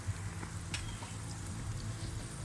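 Stuffed potato keema tikki frying in hot oil until golden brown, a steady soft sizzle and crackle that stays even and close throughout with no voices.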